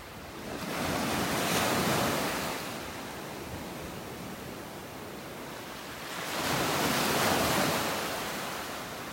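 Ocean waves on a beach in North Naples, Florida, two broad surges of hissing surf that swell and fade slowly, with wind noise in between and no voices.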